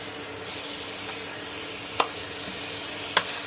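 Drumsticks sautéing in a pan with salt, turmeric and chilli powder, a steady close sizzle with a couple of sharp stirring clicks.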